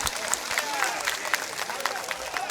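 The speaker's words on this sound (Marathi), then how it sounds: "नितीनजी बानगुडे पाटील साहेब यांच्यासाठी आपण एकदा जोरात टाळ्यांचा कडकडाट होऊन जाऊ द्या." Loud, sustained applause from a large outdoor crowd at a Marathi-language election campaign rally in a village, a dense wash of clapping with scattered cheers and no break across the stretch.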